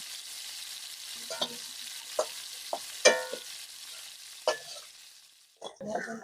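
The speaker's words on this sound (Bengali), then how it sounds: "আর একটু তেল দিয়ে দেব চেরা শুকনো মরিচ দেবো কুচানো পেঁয়াজ" Dried split chilies and chopped onion hit hot oil in a pan, giving a soft continuous sizzle broken by several sharp stirring clacks and scrapes near the end.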